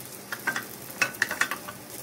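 Paratha roasting in a little oil on a hot pan, a faint crackling sizzle with scattered sharp pops that come and go irregularly.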